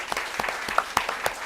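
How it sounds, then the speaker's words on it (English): An audience at a school district board meeting gives a short round of applause for tenured teachers and nurses, with scattered claps under a light murmur. "Can we have one more round of applause for all of our tenured teachers and nurses?"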